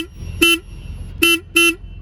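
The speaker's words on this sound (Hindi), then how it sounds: "हॉर्न मैं आपको एक बार बजा के दिखा देता हूँ इसका" Horn of a Royal Enfield Himalayan 450 motorcycle sounds three short, bright honks, the last two close together, over quiet idle background.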